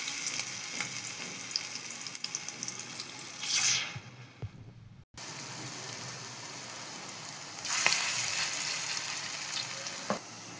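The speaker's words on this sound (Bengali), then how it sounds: "বড়ার জন্য এক এক করে ছেড়ে দেব তেলের মধ্যে।" Bora fritters frying in hot oil in a wok, a steady close sizzle and crackle that swells briefly as batter drops in, with a short break partway through and no talking.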